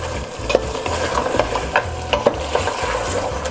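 Masala, yogurt and chillies frying for beef yakhni pulao as a spoon stirs steadily, with a continuous sizzle under repeated metallic scrapes and clinks against the pot, fairly loud and close, with no talking.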